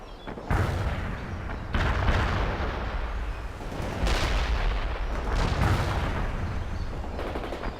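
Heavy artillery booms and gunfire from the real-time strategy game World in Conflict roll in repeated rumbling blasts, each followed by sustained crackling and a low, loud battlefield din.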